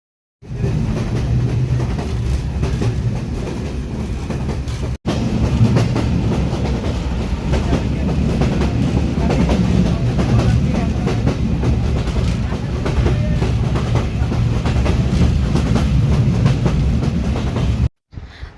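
A train rumbles steadily along the rails with a continuous loud roar and faint rhythmic clatter, briefly cutting out once partway through.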